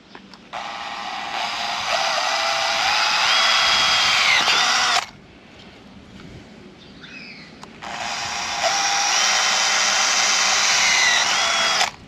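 An electric drill bores a hole for a mosquito net handle, whining loudly for about four seconds, pausing briefly, then running again for another stretch, close up with no talking.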